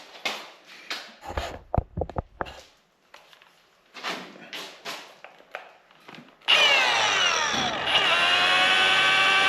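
A power sander color sands the rear quarter panel of a 1969 VW Beetle Convertible. After several seconds of quieter, intermittent sounds, the tool starts abruptly and runs loud and steady to the end, with a whining pitch that settles as it spins up.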